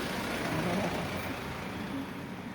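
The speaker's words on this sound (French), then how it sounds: "Il y a une voiture qui passe un peu de bruit" A car passing on a nearby road, a steady broadband rumble of engine and tyre noise that holds fairly loud through the whole stretch with no talk over it.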